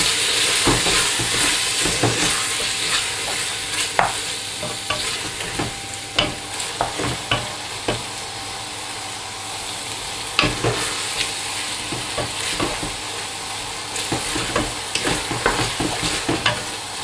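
Meat for a Moroccan pastilla filling fries and sizzles in a pan over a continuous hiss, with repeated scraping stirs and clicks of a utensil against the pan throughout, and no talking.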